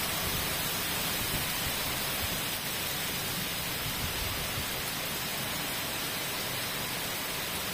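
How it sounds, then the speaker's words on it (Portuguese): Heavy rain pours in Martins as a dense, unbroken hiss that stays level and loud throughout, with no distinct drops or voices. "Começou a chover."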